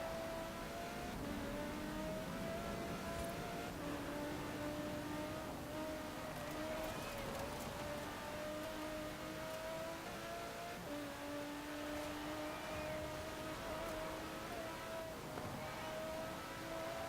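Revving engine of a car in the racing game Forza Horizon 4, steady and loud throughout, with pitch rising and falling as it accelerates and shifts, no talking over it.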